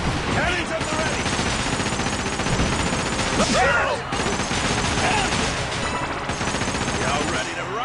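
Cannon fire in the Like a Dragon pirate video game, a dense, continuous barrage of booming shots and rattling blasts that stays loud, with brief pauses and a voice faintly mixed in.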